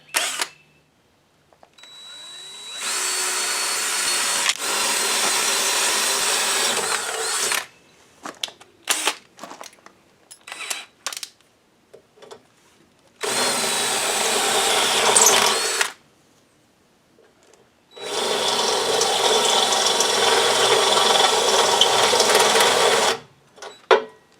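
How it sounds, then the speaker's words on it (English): A step drill bit whines through metal, reaming a hole to 1/2 inch in three long, loud bursts, with short pauses of clicks and handling noise between them. "I'll use my unibit to ream it out to 1/2 inch"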